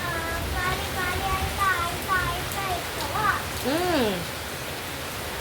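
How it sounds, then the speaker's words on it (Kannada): Steady rain falls outdoors under heavy cloud as a broad, even hiss through the whole passage, while voices speak briefly over it. "ಇಲ್ಲಿ ನೋಡಿ ಹೀಗಿದೆ ಮೋಡ ಎಲ್ಲ ತುಂಬ ಮಳೆ ಕೂಡ ಹುಯ್ತಾ ಇದೆ"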